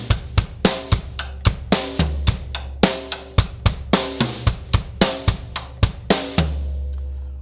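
A drum kit plays a verse beat at a sped-up tempo, punchy kick and snare hits in a driving steady rhythm with cymbal wash, loud and close with no talking.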